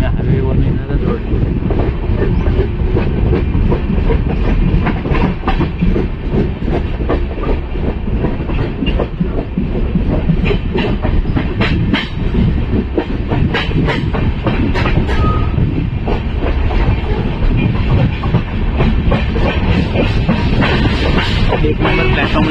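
A Ratnagiri passenger train on the Konkan Railway runs along the rails, a steady loud rumble with rhythmic clickety-clack of wheels over joints heard from inside, continuous throughout.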